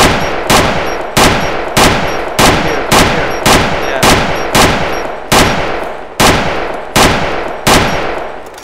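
Rapid bursts of automatic rifle fire in a Chernarus survival shooter game, a dozen loud, sharp volleys in a steady rhythm, each ringing out briefly, with no talk over them.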